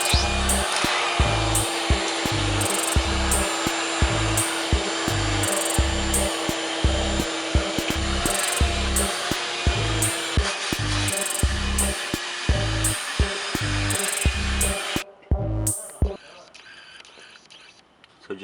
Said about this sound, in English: So now we're gonna vacuum it.